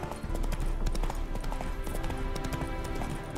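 Horse hooves clip-clop in a steady, continuous rhythm in The Witcher video game, close and moderately loud over ambient game sound.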